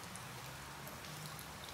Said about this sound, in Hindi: इतनी बारिश हो रही है कि रुकने का नाम ही नहीं ले रही है